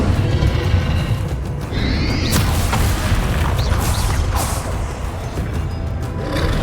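A Confringo fire spell blasts in Hogwarts Legacy gameplay: loud, dense booming roar with whooshing sweeps and sharp crackling bursts, several impacts layered over a constant rumbling bed, no voice heard.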